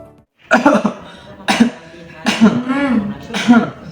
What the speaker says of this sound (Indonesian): Jangan abaikan batuk yang terus muncul.